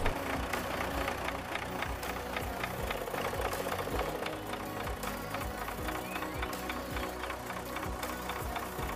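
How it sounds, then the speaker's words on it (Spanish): An old four-wheel-drive tractor in Farming Simulator 19 runs steadily throughout, a close, loud, rhythmic chugging with a knocking beat and no talk over it. "Vean nomás, un tractor muy antiguo."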